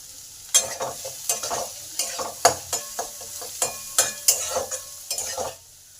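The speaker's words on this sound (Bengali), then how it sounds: "পেঁয়াজটাকে ভালো করে লাল লাল করে ভেজে নেব।" Chopped onion sizzling in a pan while a spoon stirs it, giving a steady run of scraping strokes about twice a second over a low frying hiss, close up.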